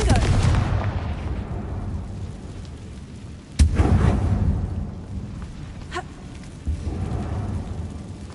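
Confringo fire spell blasts in the game Hogwarts Legacy, heavy booming explosions with low rumble, one sharp blast in the middle and further impacts after, no voice in between.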